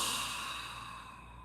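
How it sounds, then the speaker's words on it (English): A slow, breathy exhalation through the mouth with the tongue drawn out, close and soft, fading gradually over a second and a half. "Inhaling through the mouth and drawing the tongue out to exhale."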